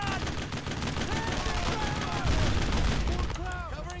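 Covering gunfire in the World War II shooter Brothers in Arms, dense continuous rifle and machine gun fire with booming hits, loud and close, while voices talk over the shooting.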